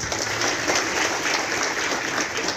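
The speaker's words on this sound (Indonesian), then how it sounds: "Tepuk tangan dulu." Audience applause at a public election event in Kupang, a dense continuous clapping that fills the short moment evenly and fairly close.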